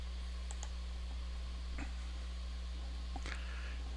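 A computer mouse gives a few sharp, isolated clicks over a low steady electrical hum, quiet and close with gaps between them.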